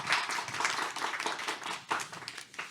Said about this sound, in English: big applause for our guest